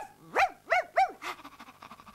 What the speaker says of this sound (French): Je veux que tu deviennes un chien, un toutou qui obéit à son maître adoré.